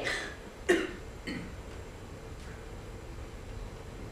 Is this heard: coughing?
yes